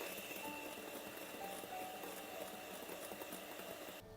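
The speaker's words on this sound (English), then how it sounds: "Add syrup sugar and continue whisking on low." An electric mixer whisks sugar and syrup on low speed for a chocolate Yule log, giving a steady, even motor whir with faint rattling that runs close throughout, with no talk.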